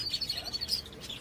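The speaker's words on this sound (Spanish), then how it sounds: "ahí enfrente tenemos periquitos de colorines" Small colorful parakeets and canaries at a market stall chirp in rapid, high overlapping tweets, a busy continuous twitter close by with no talk.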